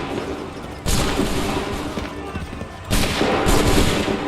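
Musket volleys from Assassin's Creed III, heavy, loud bursts of massed gunfire that hit twice, each followed by a long rumbling roar that rolls on without a pause.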